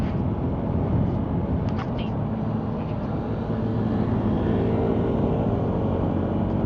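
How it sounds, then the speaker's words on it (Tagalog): A Honda ADV160 motorcycle engine drones steadily at cruising speed during a night ride, a continuous close hum mixed with wind rush, with no voices. "Lakas pa rin ng motor ni Jojo"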